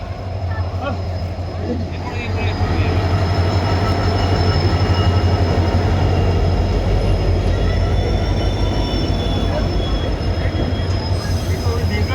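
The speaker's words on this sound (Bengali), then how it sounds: "ট্রেন এসে গেছে প্ল্যাটফর্ম নম্বর থ্রি পাঁচ মিনিট আগেই ঢুকে গেছে" A train pulls in at platform three of a railway station, producing a loud, close, continuous low rumble with rail noise that swells after the first couple of seconds, while voices talk underneath.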